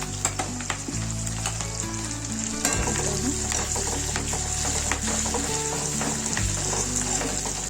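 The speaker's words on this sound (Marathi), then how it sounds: "मी यात थोडेसे हिरव्या मिरच्या टाकणार आहे। आपण यातच कढीपत्ता टाकणार आहोत।" Green chillies and curry leaves sizzle loudly in hot oil with garlic while chivda is being made, a dense and continuous close-up crackle with small pops and a few clinks of the utensil, and no talking.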